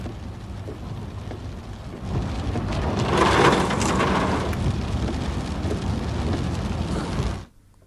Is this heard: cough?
no